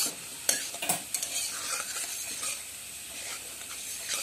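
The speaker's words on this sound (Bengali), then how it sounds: "পেঁয়াজগুলো দিয়ে লালচে করে ভেজে নিয়ে তুলে রাখবো।" Onions sizzle in hot oil left from frying katla fish while a spoon stirs them. A few sharp utensil clinks sound early on, then a steady close frying hiss continues.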